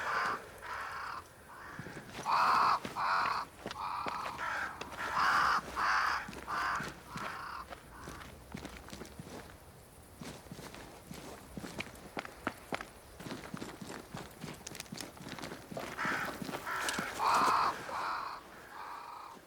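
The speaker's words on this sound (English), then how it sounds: "Crows. They flock to that great tree up there." Crows caw near a great tree in the video game Banishers: Ghosts of New Eden, harsh repeated calls in bursts while footsteps crunch steadily along throughout.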